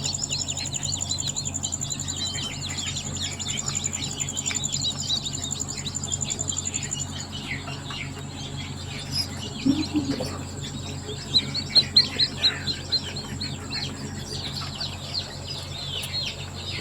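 Dense, continuous high chirping comes from a group of tiger chicken chicks held close by. A few louder clucks and peeps stand out near the end, all over a steady low hum, with no voices.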